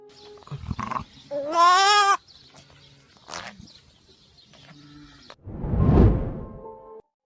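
A goat with a deformity bleats loudly and close by, with several wavering, tremulous calls, quieter snuffles and movement between them, and a final long, strong bleat. No talk.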